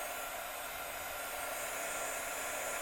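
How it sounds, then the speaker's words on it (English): A hair dryer blows steadily to dry coats of glue on a DIY craft prop, a continuous close whooshing hum with no talking. "you can use a heat gun or a hair dryer to dry this glue a little bit faster."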